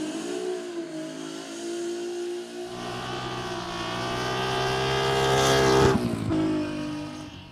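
An Alfa Romeo race car accelerates hard at the Rob Roy hill climb, its engine note rising steadily in pitch and loudness through the gears before a sharp shift and continuing drive, loud and alone.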